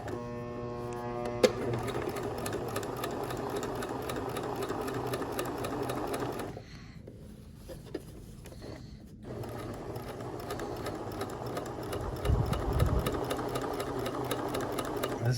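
Sewing machine stitching a pinned fabric hem, a fast, steady mechanical whir with rapid rhythmic needle clatter running almost continuously, pausing briefly midway and then starting up again, close and prominent with no talking.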